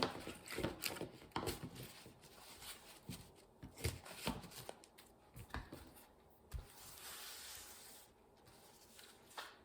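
Tarot cards are shuffled and drawn, producing a quiet run of close, papery riffles, slides and soft slaps in irregular bursts, with a longer smooth rub toward the end.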